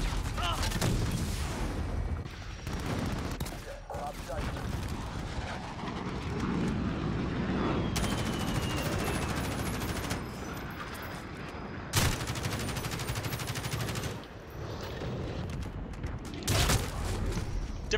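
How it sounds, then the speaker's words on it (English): Chopper gunner killstreak gunfire in a Modern Warfare video game, with dense loud bursts of automatic fire and explosions rolling almost continuously alongside aircraft drone. "He got a chopper gunner."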